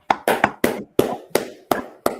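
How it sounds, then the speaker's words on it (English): A small group clapping at the close of a class session, about eight separate sharp claps in a loose, uneven rhythm, close and distinct with silence between them. "All right, clap it up."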